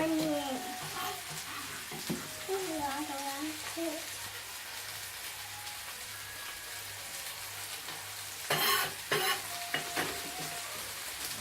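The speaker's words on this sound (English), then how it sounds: "so give that a stir" Garlic and sausage fat sizzle in hot oil in a frying pan while being stirred, a steady crackling fry with louder scraping bursts of the spoon near the end and muffled voices early on.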